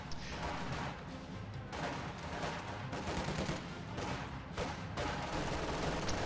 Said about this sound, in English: MG42 set up to stop this push.